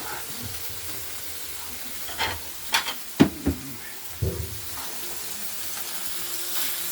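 Smash burgers hiss on a hot griddle while a spatula scrapes beneath them, a steady soft sizzle broken by a few sharp metallic scrapes and clatters at close range.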